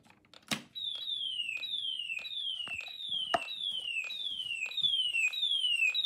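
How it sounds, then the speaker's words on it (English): A fire alarm built from Snap Circuits sounds a loud, repeating electronic sweep that falls in pitch with each cycle, interrupted by a few sharp clicks from a relay, with no talking. "Sounds the fire alarm like always."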